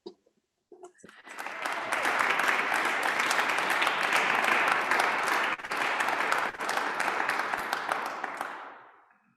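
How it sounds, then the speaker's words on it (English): Warm audience applause at an anniversary celebration event, a sustained burst of many hands clapping that swells quickly, holds steady and loud for several seconds, then fades away. "put your hands together and give actually Samra an amazing warm applause"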